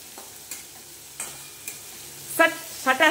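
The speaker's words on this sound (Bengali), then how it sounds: "তো পোস্তটাকে সুন্দর করে কষে নেবো বন্ধুরা" Poppy seed paste stirred in a pan for karola posto, bitter gourd with poppy seeds, as scattered scrapes and clinks of stirring under a soft background, ending in two louder bursts of sizzling near the end.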